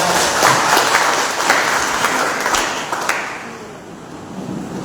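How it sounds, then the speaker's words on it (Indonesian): A church congregation applauding visiting guests, brisk dense clapping that stays strong for about three seconds and then tapers off into a quieter room tone. "Berikan tepukan untuk pelawat kita."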